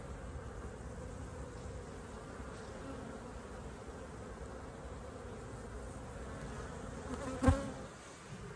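Honeybees in an open hive during a late-season inspection, a steady low buzzing hum throughout, with one brief louder knock or bump near the end.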